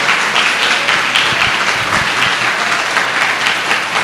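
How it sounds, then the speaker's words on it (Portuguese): A church congregation applauding at a Sunday service, continuous loud clapping from many hands filling the room with an even, dense texture. "Vamos dar uma linda salva de palmas para Jesus."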